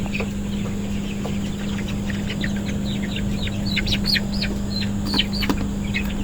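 A broiler chicken, about twenty days old, clucks in a rapid run of short calls close by, over a constant low mechanical hum and a steady noisy background.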